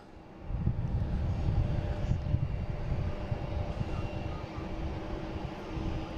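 An airliner departs Boston Logan International Airport bound for Milan, its engines building from a low rumble into a loud, sustained roar that eases slightly toward the end.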